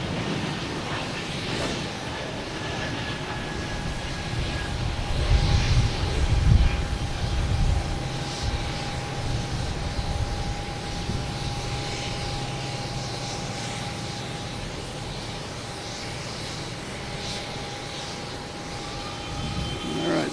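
A JetBlue jet airliner bound for Raleigh-Durham departs Boston Logan, a sustained engine roar with a steady whine that swells midway and then slowly fades, no talk over it.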